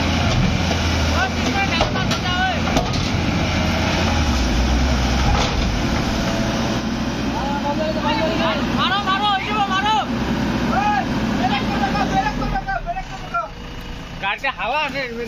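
A stuck dumper truck's engine runs steadily and loudly while it is being pulled out, a continuous low rumble with voices talking and shouting over it.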